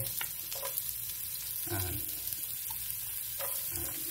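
Onion frying in a wok for a pizza omelette, a steady close sizzle with intermittent stirring scrapes and clatters, no clear talk.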